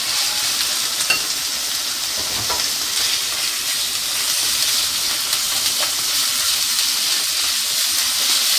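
Minced meat hitting golden fried onions in a pan for Ardabil-style qeymeh khoshk gives a dense, even, close hiss of sizzling that holds steady throughout, with faint scraping and no talking.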